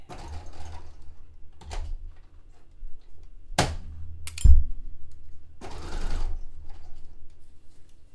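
A sewing machine stitches the underarm seam of a vintage Gunne Sax–style dress made from bed sheets, running in short separate bursts with quiet pauses between them and no talk.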